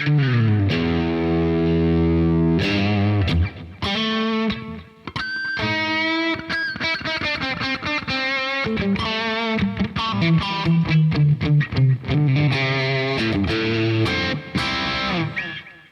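Distorted Fender Telecaster electric guitar through an amp modeler with a 4x12 cab, reverb and delay, chords and fast single-note runs ringing out and trailing into echoes, loud and alone with no voices.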